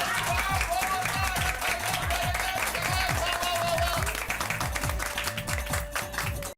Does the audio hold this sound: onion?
no